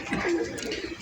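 Breeder pigeons in a loft give soft, low, throaty coos, a steady murmuring close by with no talk over it.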